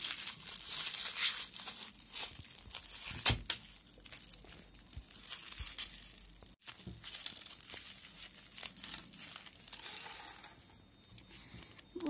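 Plastic wrapper of a surprise toy package crinkling and tearing as it is opened up close, with continuous rustling, a few sharp crackles and a brief louder rip, no talking.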